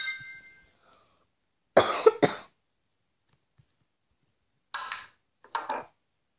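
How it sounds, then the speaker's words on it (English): Several harsh coughs from a snooker player during a frame, a pair near the start and two more pairs later, loud and close with quiet gaps between. "Sorry about the cough."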